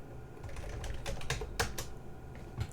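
Computer keyboard keys tapped in a short, uneven burst of close clicks, a few louder strikes standing out, with no voices.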